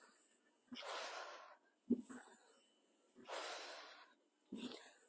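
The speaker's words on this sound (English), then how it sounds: "In through the nose, exhale through the mouth." Slow controlled breathing during a grounding yoga sequence, a nasal inhale followed by a long airy exhale through the mouth, repeated twice, close and soft, with brief small sniffs between.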